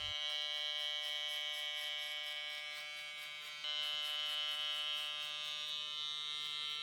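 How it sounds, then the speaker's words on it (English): An electric hair clipper, used with the guard open to cut a mid drop fade, buzzes steadily up close with a bright, constant whine that shifts slightly in pitch partway through as it moves against the hair, with no talking. "Now we're going to come in with our clipper open once again and create another guideline."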